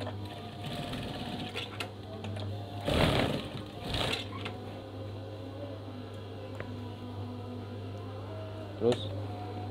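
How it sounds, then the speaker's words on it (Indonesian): A sewing machine stitches the edge of a screen curtain, a steady mechanical hum running throughout with a loud burst of stitching near the start and a brief clack near the end; a voice speaks in the background. "jahit lagi."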